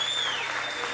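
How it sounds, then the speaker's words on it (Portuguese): Church congregation clapping in praise during a Sunday service, a dense, steady wash of applause filling the whole second with no let-up. "Aplauda o Senhor."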